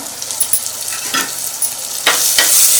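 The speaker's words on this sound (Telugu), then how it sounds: "ఇలా ఉల్లిపాయలు వేగాయి కదా ఈ విధంగా వేస్తే సరిపోతాయి" Onions fry in hot oil in a pan for a korameenu fish stew, a steady close sizzle with a few scraping stirs of a spoon.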